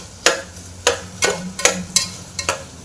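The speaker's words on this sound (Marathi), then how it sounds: "आता हे व्यवस्थित थोडंसं असं फ्राय झालेलं आहे।" Ingredients for a dal and rice khichdi being stirred in a pan, with five or six distinct scraping strokes of a spoon over a faint sizzle, close and unhurried, no voices.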